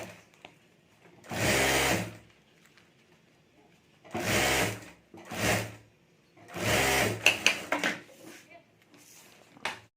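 A sewing machine stitches a zip onto a handbag made from old sari lace, running in several short, loud bursts separated by near silence.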